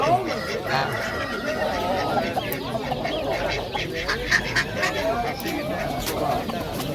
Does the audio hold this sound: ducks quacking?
yes